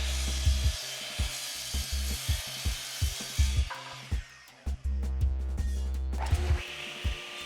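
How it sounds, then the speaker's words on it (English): Hand saw cutting poplar boards to length in a woodworking shop, a steady series of rhythmic rasping strokes close by, pausing briefly partway through before the sawing resumes. "Here I take my two poplar boards and rip them to length"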